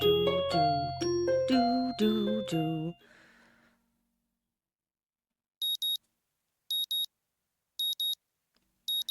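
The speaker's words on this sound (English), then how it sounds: "My morning alarm goes off" A morning alarm clock in the visual novel Katawa Shoujo sounds in four clear high double beeps, each pair evenly spaced, after a short melodic musical chime fades into silence.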